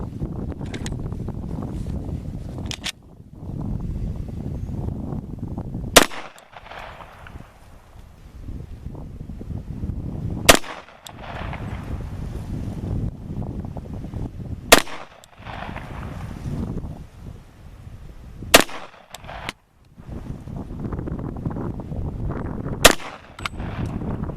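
Pistol shots fired at a target 10 yards away outdoors, five sharp cracks spaced several seconds apart over steady wind rumble against the microphone.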